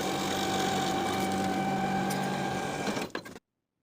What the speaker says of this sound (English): Sew the side seams from the top to the dots transferred from the pattern piece, backstitching to secure with a 5/8 inch seam allowance